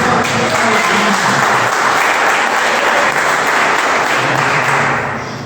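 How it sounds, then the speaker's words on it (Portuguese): A church congregation applauds during a worship service, loud, dense and continuous clapping filling the room before tapering off at the very end. "Você pode aplaudir ao Senhor nessa noite."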